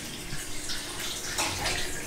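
Water gushes steadily from a tap into a tub, a soft continuous splashing rush heard at moderate distance.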